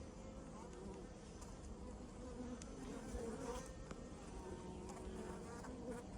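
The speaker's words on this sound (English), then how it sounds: "the bees are fighting with that hive beetle." Honeybees in an open hive buzz as they chase a small hive beetle, a dense, steady drone of many wings, close but quiet, continuing without pause throughout.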